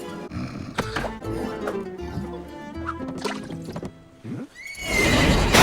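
Horse neighing and whinnying in the animated film The Road to El Dorado, several loud strained whinnies mixed with snorts and movie sound effects, ending in a burst of splashing water noise.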